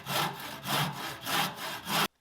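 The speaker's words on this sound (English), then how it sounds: "we'll cut 2 of those out" Handsaw cutting through wooden end pieces for a serving tray, steady back-and-forth strokes in a rhythmic rasp, about seven strokes close and loud, stopping abruptly at the end.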